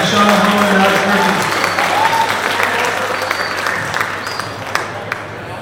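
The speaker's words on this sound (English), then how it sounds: "we're going to get one last round of applause for your two candidates for Deputy President Welfare, Sean Howard and Alex Murphy." Steady audience applause at an election hustings for student union Deputy President Welfare candidates, filling the hall throughout and thinning slightly toward the end, with faint voices underneath.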